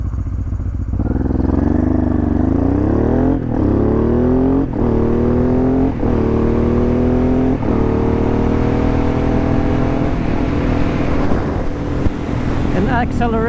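A Honda Transalp converted to a supermoto pulls away from a stoplight with a loud, close engine note. Its pitch climbs steadily through several gear changes, and wind rushes over everything.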